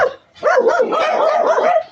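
Pet dogs bark and yip excitedly at feeding time on a small backyard garden plot, a close, loud run of overlapping barks and whiny yelps after a brief pause.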